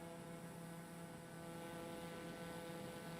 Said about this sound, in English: I hate the sound of this engine.